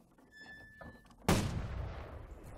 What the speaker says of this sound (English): Waiting for the gun to roll forwards into position for firing.